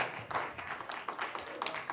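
An audience claps at a county commission meeting, a brief scattered patter of hands from several people at moderate distance, fading as it goes on.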